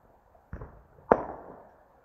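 Two Diwali firecrackers burst one after the other in open country, each a sharp, fairly distant bang that rolls out into a fading echo across the fields.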